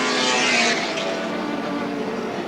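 Touring race cars at Lakeside International Raceway in the 1984 Australian Touring Car Championship, a loud engine roar sweeping past up close, then a sustained high whine that fades slightly as the cars pull away.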